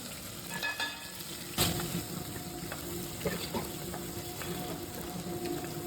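Mustard seeds and lentils fry in hot oil with a steady crackling sizzle, broken by occasional sharp spatula scrapes and clinks against the pan, plus one louder knock near the middle.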